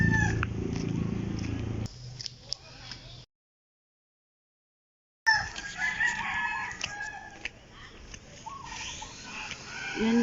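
Domestic chickens clucking and a rooster crowing in a neighbor's outdoor yard, with a gap of silence midway before the birds resume amid background noise.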